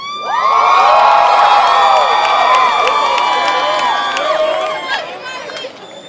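Graduates at a 2012 high school graduation ceremony let out a loud burst of cheering, whoops and shouts from a large crowd in a big hall that fades after several seconds.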